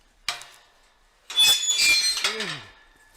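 A squeaky metal gate latch at a winter campsite gives a sharp metallic click, then a longer grinding, high-pitched squeal with a falling creak at the end, close and fairly loud with no talk.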